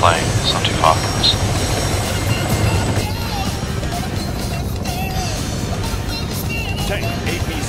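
Steady roar of an airplane in Arma 3, a fast-moving jet passing over a battlefield, a continuous broadband rumble lasting the whole stretch with a slight shift partway through.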